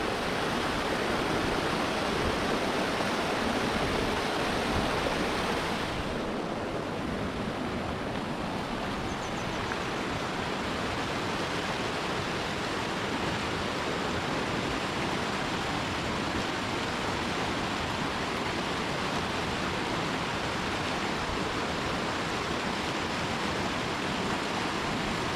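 River water flowing steadily beside a water pipe on a jungle hike at Bukit Repin, a dense continuous rush that stays close and even throughout with no talk.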